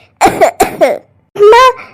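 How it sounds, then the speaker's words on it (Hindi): A woman coughs several times in a quick, rough burst, then clears her throat with a strained, voiced rasp, close and loud. "पर ये क्या माँ, आपको खांसी आ रही है?"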